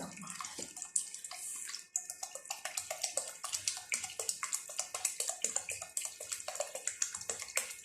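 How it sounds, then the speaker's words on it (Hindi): Milk is poured into a pan of gajar ka halwa with a splashing, trickling liquid sound and irregular soft spatters, close up and fairly quiet, with no talking. "अब हम इसमें और दूध डालेंगे।"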